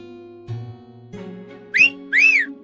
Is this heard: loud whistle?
yes